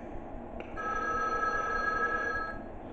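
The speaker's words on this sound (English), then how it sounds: "I'll just mute the phone call since I already heard it." Phone ringing in the video game Five Nights at Wario's, a steady electronic ring tone that holds for about two seconds over a constant low background hum.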